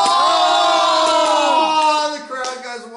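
Spectators at a chess blitz match between The Snake and The Jack-Hammer erupt in a loud, sustained collective gasp and cheer, dense crowd voices swelling together before easing off slightly near the end.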